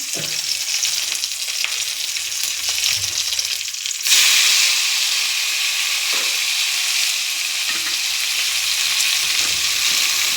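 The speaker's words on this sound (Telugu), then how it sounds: "వీటిలోకి మనం టమాటా ముక్కలు యాడ్ చేద్దాం" Tomato pieces go into a hot frying pan for a simple tomato curry. A steady hiss of frying jumps to a louder, fuller sizzle partway through, then holds, close-up, with no voices.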